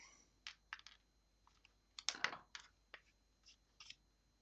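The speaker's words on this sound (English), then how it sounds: "And then you just trim off the extra pieces." Paper being trimmed for card making, giving a series of short, crisp snipping and clicking cuts spaced unevenly over a few seconds, faint and close, with a slightly louder cluster partway through and no talk.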